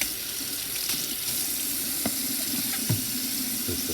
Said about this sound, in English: Rinse this off really good.